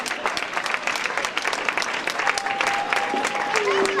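Steady applause from a crowd at an outdoor town-square ceremony, dense clapping throughout with a few whistles rising over it.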